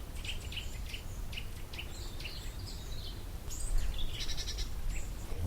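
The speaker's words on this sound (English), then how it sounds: "That's a nuthatch calling." Nuthatch calling amid a mixed woodland flock of tits, nuthatches and treecreepers, short high piping notes repeated in quick bursts, fairly faint against a steady rustling outdoor background.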